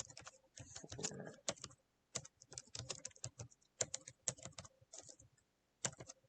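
Quick bursts of keyboard typing, close and crisp, irregular clusters of key clicks with short pauses between, no voices.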